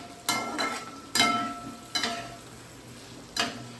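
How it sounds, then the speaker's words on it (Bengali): Spices roasting in a pan over a low flame: a soft frying hiss punctuated by four distinct spatula strokes against the pan, quiet and close, with no talk. "তো ভালো করে একটু রোস্ট করে নেবো জাস্ট"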